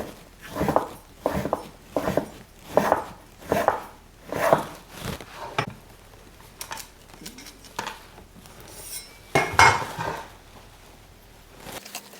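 A knife cuts fresh pasta dough by hand on a board, making a series of soft, close, evenly paced chopping thuds that slow and fade. A brighter scraping knock follows near the end.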